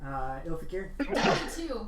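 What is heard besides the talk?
sneeze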